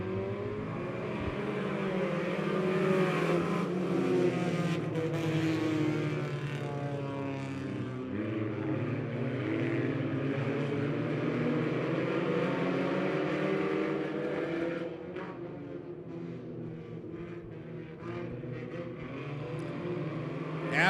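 Several race cars roar together at the start of a heat race at Lebanon Midway Speedway, driven by 12-to-17-year-olds; the engine drone stays loud and steady throughout, dipping slightly near the end.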